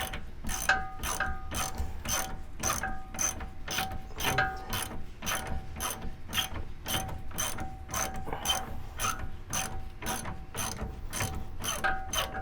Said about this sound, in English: The ratchet that I've got that came with this impact socket set, it's pretty nice. Works pretty smoothly.